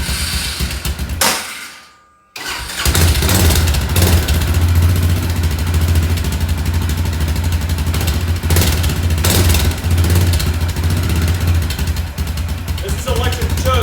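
An Arctic Cat 400 ATV engine with an open header muffler and electric choke runs close and loud, cutting out briefly before catching again into a steady, rough idle with slight surges, voices heard over it.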